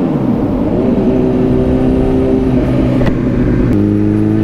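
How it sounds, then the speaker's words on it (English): Car engine and exhaust revving inside a tunnel, a loud, close, booming drone that holds steady and then steps up in pitch as the driver shifts, echoing off the walls. "Tunnel exhaust."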